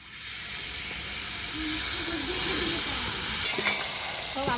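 Frying for a duck biryani, a steady broadband sizzle and hiss of hot oil that swells slightly louder midway, with faint stirring clicks near the end and no talking.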